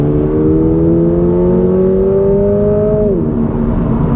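A 2022 Toyota GR86 engine revs steadily upward on a tight, twisty mountain road, its loud, continuous tone climbing in pitch for about three seconds before dropping as the driver shifts, with road and wind roar underneath.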